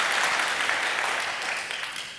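Steady applause from a conference audience at a React JS event in Alicante, dense continuous clapping filling the room for a couple of seconds and tapering slightly at the end.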